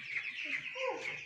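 Chickens in poultry cages cluck and chirp briefly and close by, with a faint voice mixed into the clucking.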